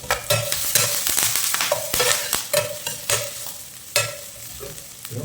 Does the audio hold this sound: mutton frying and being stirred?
yes